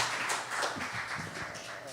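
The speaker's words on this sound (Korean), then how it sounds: "우리 박수로 우리 축복하겠습니다." A youth congregation at a high-school worship service claps to welcome a newcomer, with scattered hand claps mixed with murmuring voices at moderate volume.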